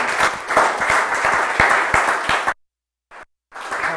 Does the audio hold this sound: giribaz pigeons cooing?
no